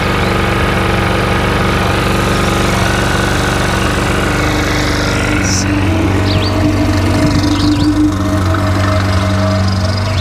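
Engine idling steadily at 1450 RPM, a loud continuous low droning hum with a constant pitch, with faint brief sounds in the background toward the end.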